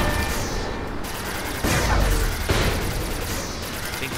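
Gunfire erupts in Saints Row IV, a burst of loud, overlapping shots and booms with sharp attacks near the middle and end, dense combat noise throughout.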